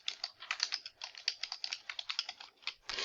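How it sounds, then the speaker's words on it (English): Quick bursts of keystrokes on a computer keyboard, close and fairly quiet, clicking in an uneven rapid rhythm for a few seconds, no speech. "let me type that again."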